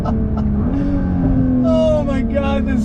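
A 2021 Nissan GT-R's turbocharged engine pulls hard on throttle from inside the car, a loud steady drone with rising pitch, turbo whine and gear changes, and a voice briefly heard over it.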